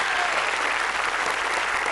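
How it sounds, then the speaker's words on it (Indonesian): Studio audience applause on a television game show, a dense and steady wash of clapping filling the whole moment, loud and even. "Tepuk tangan dong untuk dia dong."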